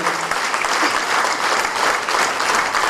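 Audience applause for a young woman at a book presentation of a local history study, steady dense clapping from a crowd throughout, fairly loud and close with no talking.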